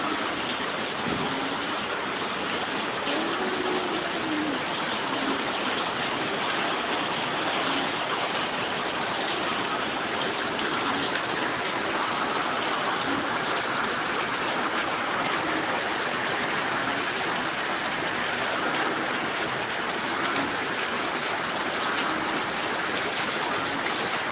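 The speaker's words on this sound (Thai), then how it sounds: "ฝนสาดบ้านมาแล้ว" Steady, heavy storm rain hisses and splashes continuously onto a house, a dense wash of noise with no voices, constant in level throughout.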